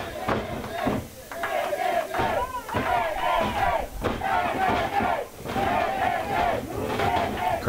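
Arena crowd at a Just For Laughs 2019 tag team title wrestling match roaring and chanting for the champions, a loud, dense, continuous wall of voices that surges in waves.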